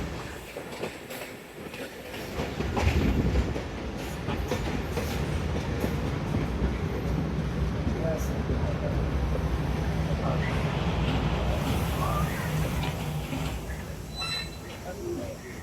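The Chenab Express pulls into Dinga station, a loud steady rumble of wheels and carriages building after a few seconds and holding close, with faint squeals and clacks on top.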